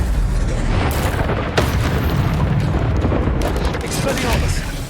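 Incendio fire spell cast in Hogwarts Legacy, a loud roaring burst of flame with booming blasts and crackling over steady game combat noise, with a voice heard alongside.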